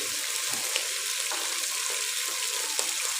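Boiled, peeled tomatoes frying with light-brown onions in a pan, a steady close sizzle with faint crackles and occasional stirring scrapes.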